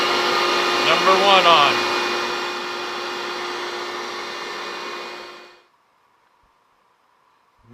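A workshop electric sander and shop vac running together, a loud steady roaring whir that cuts off abruptly, while a person speaks briefly over it near the start.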